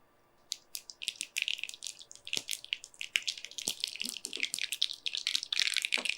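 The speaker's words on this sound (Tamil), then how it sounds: "இந்த கடுகு நல்லா பொரியுது பாருங்கள்" Mustard seeds spluttering and popping in hot oil in a home kitchen, a dense run of sharp crackles that grows busier and louder over several seconds, with no talk.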